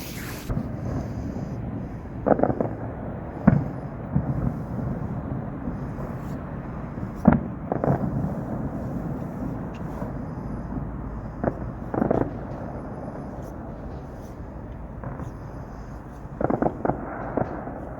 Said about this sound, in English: Fishing and a free fireworks display.